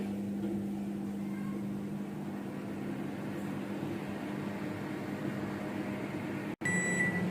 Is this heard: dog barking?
no